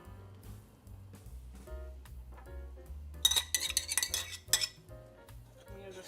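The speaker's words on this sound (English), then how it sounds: "you just stir this up" A utensil stirs a box of yellow cake mix and a stick of butter together in a dish, making irregular scrapes and metallic clinks that grow denser and louder midway, with no talking.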